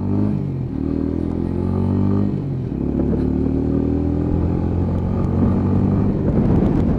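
A Lexmoto Ranger motorcycle accelerates up through its small gearbox, the engine drone climbing in pitch, dipping briefly at each shift and climbing again, loud and close throughout without speech.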